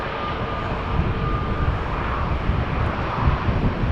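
A Lufthansa Airbus A319 airliner at Amsterdam Schiphol Airport gives off a steady, broad jet engine roar with gusty wind buffeting, moderately loud and unchanging.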